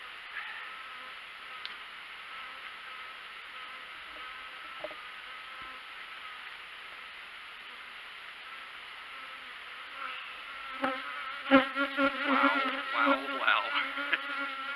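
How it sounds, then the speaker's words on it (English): Honeybees buzz in a dense, continuous hum around an opened hive, growing louder and more agitated near the end, with a brief spoken exclamation. "They're buzzing, but they're not swarming me."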